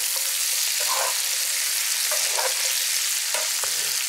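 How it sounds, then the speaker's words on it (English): Green beans and pancetta sizzling steadily in a hot pan, with a few soft clattering tosses and stirs over the constant frying hiss, close and alone without voices. "we're going to put the pancetta back in, just like that. Give it a toss."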